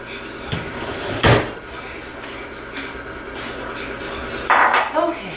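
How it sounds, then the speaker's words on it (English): Dishes and a mixing bowl clink and clatter in a home kitchen as the bowl is grabbed, with a loud knock early on and a burst of rattling near the end, close by amid low background noise. "Then I'm going to grab a bowl"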